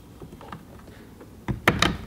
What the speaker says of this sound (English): And we're gonna lift the door handle